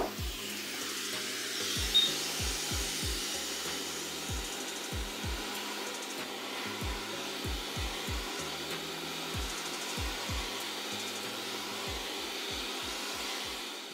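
A hot air blower running bare without its nozzle for the widest airflow, heating and lifting RAM chips off a MacBook Air logic board; a steady broadband whoosh continues throughout, with repeated low knocks and clicks of handling beneath it.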